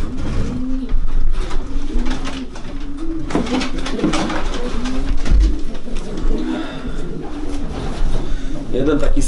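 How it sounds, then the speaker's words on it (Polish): Racing pigeons coo in a breeding loft, a steady stream of soft, low rolling coos from several birds close by, with background voices and light rustling. "Jeden taki ze starszych gołąbków na gołębniku."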